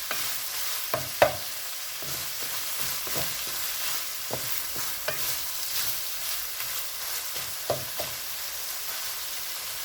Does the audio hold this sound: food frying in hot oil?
yes